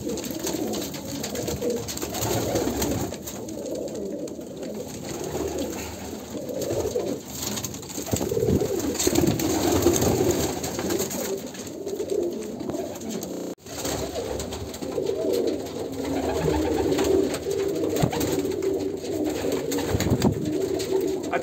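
Kalanka pigeons of a pure Andhra bloodline coo in their loft, a long stretch of low, rolling murmurs repeating close by and without talk.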